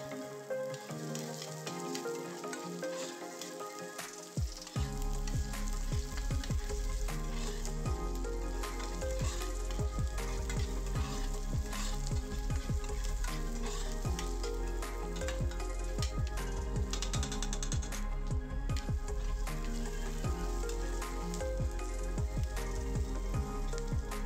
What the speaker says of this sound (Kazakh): Және де пиязымызды қасықпен араластыра отырып, қуырып алатын боламыз.